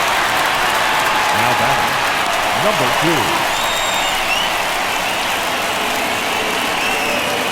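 Crowd at a Red Sox–Cardinals World Series game in a baseball stadium, a dense steady roar of applause and cheering throughout, with a public-address voice announcing the next batter over it.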